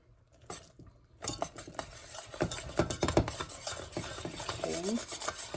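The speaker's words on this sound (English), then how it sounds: "with every stir, I let it come to a boil" A spoon stirs boiling toffee for nut butter crunch in a pot, giving close, continuous scraping and rasping against the metal with bubbling underneath.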